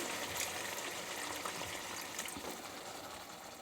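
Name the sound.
water poured into a frying fish curry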